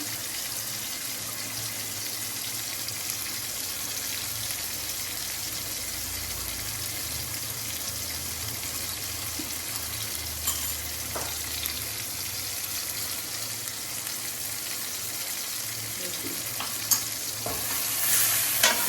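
Whole okra frying in a pan with red chili, turmeric and coriander powder, stirred steadily on low gas; a continuous soft sizzle with scraping stir strokes runs throughout, close and fairly quiet, with no talking.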